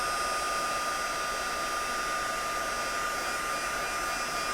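A heat tool blows steadily to melt embossing powder on a card, giving a loud, continuous whirring rush of air with an even fan whine and no breaks.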